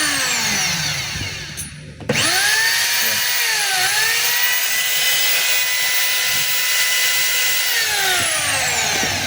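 A DeWalt D25033 rotary hammer runs continuously, a loud, steady whining motor drone after a brief dip near the start, with no talk over it.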